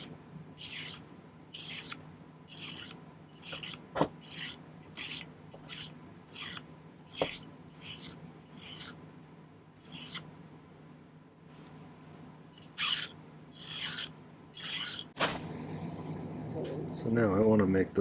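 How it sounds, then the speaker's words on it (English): Metal file rasping in quick, regular strokes while cleaning up an amethyst marquise ring, close and fairly quiet, with a few sharper knocks and a brief pause before the strokes resume; a voice talks underneath at times. "Let's do a little cleanup filing here."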